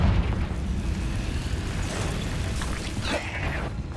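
A Confringo blasting spell in Hogwarts Legacy erupts in a loud, rumbling explosion that rolls on continuously for several seconds, heavy and near.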